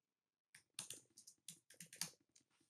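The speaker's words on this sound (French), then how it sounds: "Puis touche entrée sur le clavier." Someone types on a computer keyboard in a quick, uneven run of close, quiet keystrokes with no one speaking.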